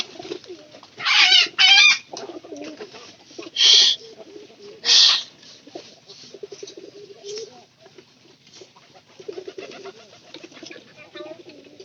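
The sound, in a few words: domestic pigeons cooing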